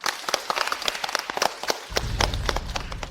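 Applause from a party crowd welcoming a managing director at a New Year gathering, a dense run of sharp, many-handed claps that holds steady for several seconds, with a low rumble of room noise joining toward the end.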